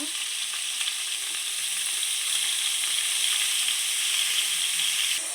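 Boneless chicken fries in oil with a continuous, even sizzle close by, loud and unbroken, with no talking.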